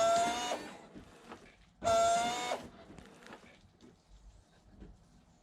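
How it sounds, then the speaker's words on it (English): Headlamp washers on a BMW E60 spraying, with two short loud hissing bursts of pump and jet, each followed by quieter clicks and faint mechanical trickling. "just pull on the wiper stalk here towards you and that'll operate the headlamp washers there"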